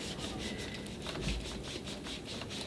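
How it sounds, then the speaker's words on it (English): A rag soaked in white vinegar scrubs back and forth against the sticky soleplate of a clothes iron, making a steady, rhythmic rubbing swish up close, with no voices. "white vinegar, and you'll just take a rag and scrub it against your plate,"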